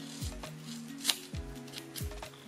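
Scissors snip through crochet yarn up close, several short crisp cuts and soft rustles spaced irregularly, with a brighter click in the middle.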